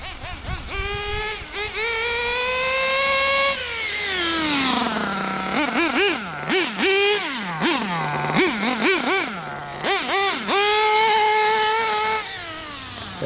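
Kyosho Landmax nitro RC rally car with a Dynamite .28 Big Block engine, a high, buzzing two-stroke whine that holds at speed, drops, then blips up and down in rapid repeated bursts before climbing again, loud and close.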